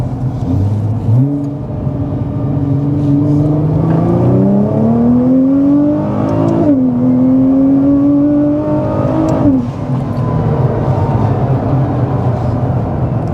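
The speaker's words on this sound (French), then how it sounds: "Le bruit des dump valves, c'est génial" A Nissan GT-R engine on a dyno revs repeatedly, loud and close, its pitch climbing in several pulls, each ending in a sharp hissing dump valve blow-off.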